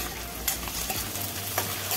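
Onions and tiger prawns stir-fry in a pan, a constant loud sizzle with faint scraping of the spoon, heard close and without talk.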